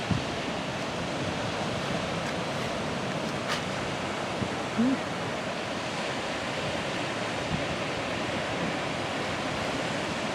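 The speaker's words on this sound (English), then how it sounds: "it's the ocean." Choppy ocean surf seen from a walking challenge, a loud, unbroken wash of breaking waves and rushing water with some wind noise, steady throughout and no voices.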